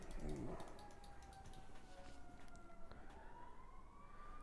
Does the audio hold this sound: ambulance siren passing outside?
yes